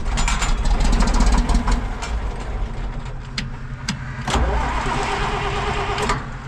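An old Sharp tractor engine cranks over repeatedly with a rapid rhythmic churning that fades and surges without catching, loud and close, with no talk over it.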